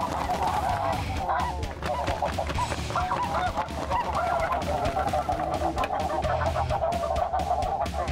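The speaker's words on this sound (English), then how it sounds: "you've got thousands of birds flying, and they're way up" A huge flock of snow geese honking in flight high overhead, a dense continuous chorus of overlapping honks, loud and steady throughout, with no talk.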